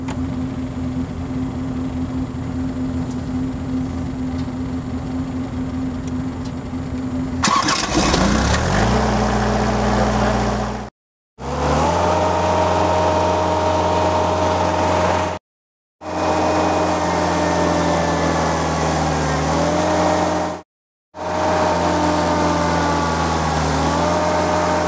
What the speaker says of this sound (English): we always want to be running our compressor at full engine RPM